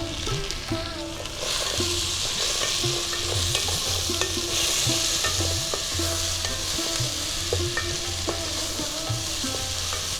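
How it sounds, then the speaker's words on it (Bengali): Tomato pieces and green peas being stirred and fried in a pan with spices for bhoger khichuri, a steady soft sizzle broken by repeated scraping strokes of the spoon, close and alone. "সবগুলো খুব ভালো করে নাড়িয়ে চাড়িয়ে ভেজে নেব।"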